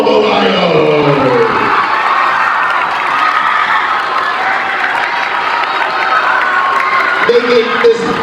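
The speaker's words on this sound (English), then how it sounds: "Make some more of applause for Omalayo." A middle school crowd claps and cheers loudly in a sustained wash of applause and shouting, with an amplified voice speaking briefly at the start and again near the end.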